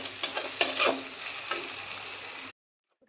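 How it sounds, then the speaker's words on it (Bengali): Egg bhurji being stirred in a hot pan, with a steady sizzle and scraping strokes of the spoon for about two and a half seconds, close and fairly loud, then stopping abruptly into silence. "তো এবার ডিমটা দিয়ে ভালো করে নাড়িয়ে নেব, ভুর্জি করে নেব"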